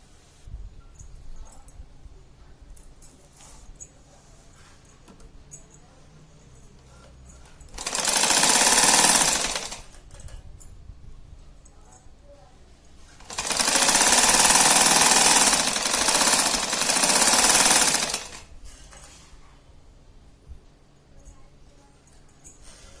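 A sewing machine stitches piping onto a handmade clutch purse in two loud, close bursts, a short one and then a longer run, with quiet pauses before, between and after.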